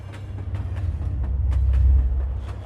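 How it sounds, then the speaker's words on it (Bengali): A train rushes through countryside at night, a cartoon sound effect: a loud, rolling low rumble builds slightly while regular metallic clicks tick over it, with no voices. "গভীর রাতে জ্যোৎস্নার আলোতে গ্রাম, ক্ষেত, নদী, গাছপালা ভেঙে ট্রেনটা ছুটে যেতে থাকে।"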